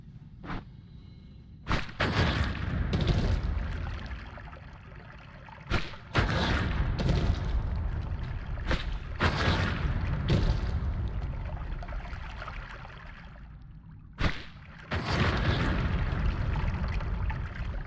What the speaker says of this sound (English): It's a double explosion. Explosion on impact, and then the actual spore pod.